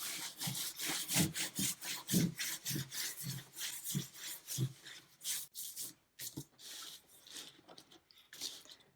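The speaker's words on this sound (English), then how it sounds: "You can just use your hand for this and just start wiping away the cement" Bare hand wiping dried rubber cement off a resin tray decorated with egg shell mosaic and alcohol ink, a close series of quick scraping rubs in an uneven rhythm, with short pauses toward the end.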